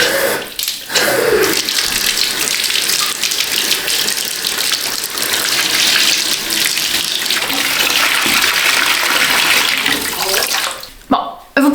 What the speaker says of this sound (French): vous pouvez faire couler votre bain et attendre que l'eau soit température pièce